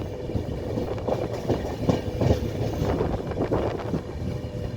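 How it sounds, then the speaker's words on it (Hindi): An Andhra Pradesh Express train rolls steadily along the track on a cloudy day, with a continuous loud rumble and rhythmic wheel clatter heard from inside a second AC coach, no talk. "ट्रेन जर्नी चल रही है, ट्रैक साउंड आ रहे हैं"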